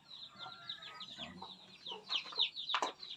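Newly hatched chicks peep in a steady, busy stream on a farm, faint and close, with occasional louder chirps and no talking.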